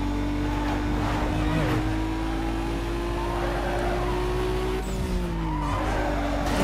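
Car drifting through a corner in Need for Speed Most Wanted (2005), with a sustained tire skid squealing over a steady, loud engine drone that runs unbroken for several seconds, followed by a brief dip and renewed revving.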